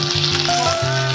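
Ginger paste hits hot oil alongside green chillies for a banana-flower malai curry, and a loud, steady sizzle crackles close up without a pause.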